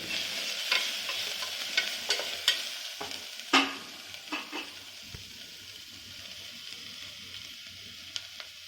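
Carrot, bean and other vegetable pieces frying in a pan for veg pulao, a close sizzle with sharp scraping stirs and clanks of a spoon in the first half, then a quieter steady sizzle toward the end, no talk.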